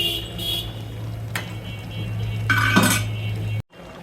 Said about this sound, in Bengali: লাউটা লাড়া দিয়ে দিচ্ছি আমি একটু।